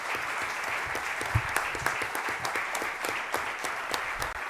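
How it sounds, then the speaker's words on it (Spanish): Audience at a science round-table panel giving steady applause, a moderate, evenly spread patter of many hands heard alone. "a los que yo creo que les vamos a dar un aplauso"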